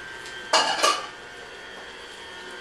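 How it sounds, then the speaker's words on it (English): A utensil clinks and scrapes twice against a glass dish while stirring melting chocolate morsels, a short close pair of knocks followed by quiet. "I'm going to just place the chocolate morsels in a glass dish so it can melt. And we're going to stir this occasionally"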